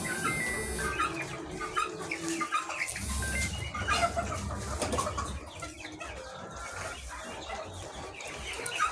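Australorp hens and roosters clucking and calling in a poultry hatchery, a busy overlapping flock sound with repeated clucks and an occasional louder crow, steady and fairly close throughout.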